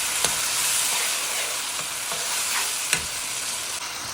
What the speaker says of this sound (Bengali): সবগুলো মশলা দিয়ে আমি নাড়াচাড়া করে নিচ্ছি যাতে মিশে যায় মশলা